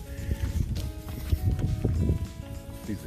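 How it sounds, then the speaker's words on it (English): Cattle in an open pasture along a Florida trail, lowing in short, uneven calls at middle distance over a steady outdoor background. "These are the cows in the pasture."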